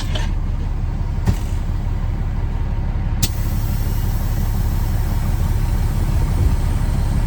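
A Peterbilt 379 truck with an 18-speed gearbox rumbles along from inside the cab, a steady low engine drone with two brief clicks early on, and no voices.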